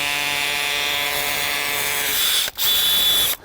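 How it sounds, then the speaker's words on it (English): Power drill on hammer setting boring down through tree roots in a potted tree, a continuous close buzzing whine with one brief pause before resuming. "We're going to drill straight down and we're going to punch our holes through the roots."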